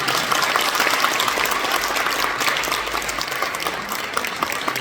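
An audience at a Korean Christian education association ceremony applauds the outgoing and incoming chairmen, a dense, steady burst of many hands clapping that stays loud for the whole stretch.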